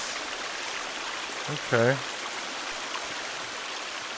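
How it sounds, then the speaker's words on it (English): A small waterfall pours out of rock in a forest, making a continuous, even rush of water throughout. A person briefly speaks once over it. "Is that water flowing out of the rock? What? What is this? It's a waterfall?"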